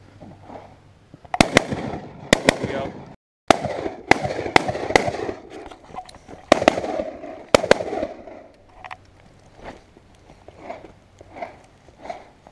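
Gunshots at an outdoor shooting range, a string of sharp loud cracks fired at uneven intervals with short pauses, close by and fading into quieter echoing pops toward the end.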